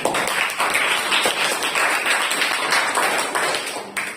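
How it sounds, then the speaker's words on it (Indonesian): A classroom group claps for the first presenting team after a student teaching session in Indonesia, with brisk, steady handclaps close by that carry on for about four seconds. "Tepuk tangan dulu untuk kelompok 1"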